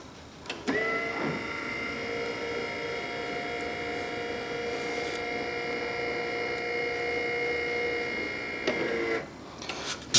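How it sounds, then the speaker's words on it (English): Electric actuator on a W.A.R. Corsair model aircraft extending the wing flaps: a steady tonal motor whine runs for about eight seconds, starting with a click and stopping abruptly at its limit, close and alone. "as I push the right button, we'll see the flaps extend"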